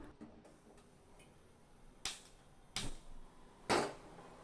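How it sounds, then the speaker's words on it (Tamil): A gas stove being lit on a home kitchen hob: three sharp igniter clicks spaced about a second apart, close and moderately loud over faint room hiss. "இப்போ ஸ்டவ்வை பற்ற வச்சுக்கலாம்"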